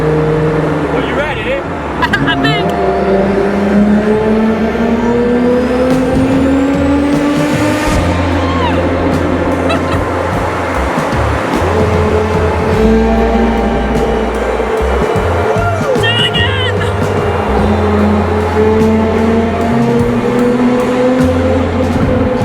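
A Nissan Skyline GT-R engine drones steadily inside the I-90 tunnels, its pitch rising and falling with gear changes, while people talk over it throughout.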